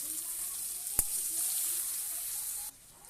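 Onion goes into hot oil with five-spice tempering in a kadai after fried fish bones, a steady close sizzle with a sharp click partway through and a sudden drop in level near the end.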